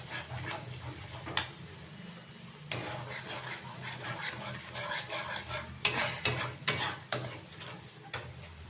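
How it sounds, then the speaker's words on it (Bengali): A peanut and poppy seed paste is stirred in a pan. A utensil scrapes and taps repeatedly in irregular strokes, growing busier and louder toward the end. "তারপর এটাকে একটুখানি নেড়ে চেড়ে দিচ্ছি।"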